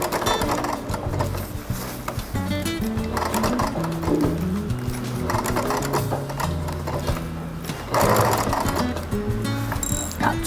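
Domestic sewing machine stitching the curved seam of a fabric tote bag, a steady mechanical whirring in short runs that pause and restart as the fabric is turned, fairly close and continuous over background music.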